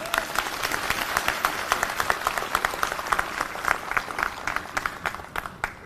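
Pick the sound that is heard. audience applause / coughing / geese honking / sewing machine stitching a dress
audience applause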